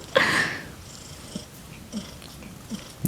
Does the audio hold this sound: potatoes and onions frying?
no